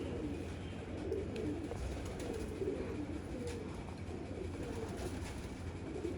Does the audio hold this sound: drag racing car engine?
no